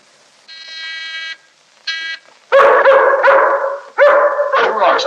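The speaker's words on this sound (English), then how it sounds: "Don't like the sound of that dog. No, sounds hungry. Possibly ravenous." A savage guard dog barking loudly and close, with several harsh, rapid barks following a couple of buzzing tones.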